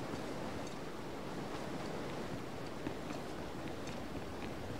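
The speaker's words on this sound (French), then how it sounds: "à cette magnifique cascade" A waterfall in the Star Wars The Old Republic video game makes a steady, dense rushing roar that carries on unbroken and stays fairly faint throughout.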